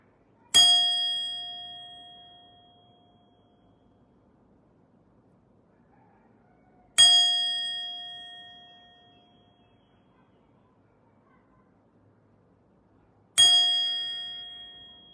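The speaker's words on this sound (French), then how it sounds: "Ma cloche te fait te sentir bien." A bell gives three single bright strikes about six seconds apart, each a clear ringing clang that decays slowly into near silence, with nothing else heard between them.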